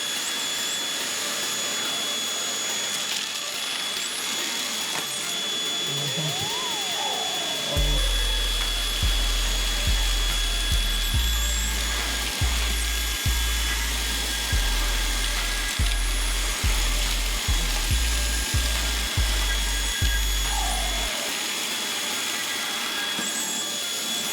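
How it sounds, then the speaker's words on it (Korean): A three-year-old Milwaukee cordless vacuum whines steadily at high pitch while sand, soil and grit rattle and crackle through the nozzle in short bursts, loud and close. "일단 흙이랑 모래는 순식간에 빨려 들어갔습니다"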